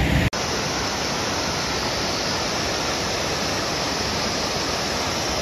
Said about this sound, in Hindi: ये जो झरना का जो व्यू आ रहा है बहुत ही खूबसूरत, एकदम ऊपर से ये गिरता हुआ आ रहा है